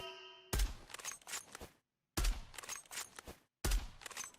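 Gunfire in the Zula battle royale video game: three loud, close bursts of rapid shots, each lasting about a second, separated by short silent gaps.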